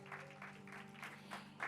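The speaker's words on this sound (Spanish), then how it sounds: "Vamos, denle el aplauso a Cristo." A congregation at a Spanish-language church service claps, with faint, scattered bursts of applause rising and falling over a low background hum.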